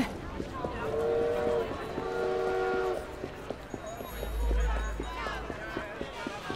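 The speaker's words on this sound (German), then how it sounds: "Okay, ihr wollt es also hier am Bahnhof treiben." Train station ambience inside Assassin's Creed Syndicate, with two drawn-out whistle-like horn tones early on over a steady rolling rumble, then a deep low drone and scattered clatter, moderately loud.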